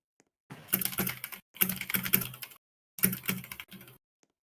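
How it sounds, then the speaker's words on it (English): A computer keyboard is typed on in three short bursts of quick, light key clicks, separated by brief pauses of silence, heard fairly close and alone with no voices. "Please turn your keyboard down."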